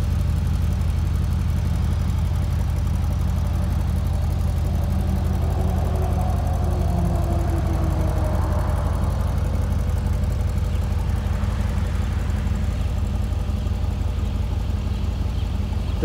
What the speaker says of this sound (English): Car is running, and I've got the flappers opened up on the performance exhaust on it.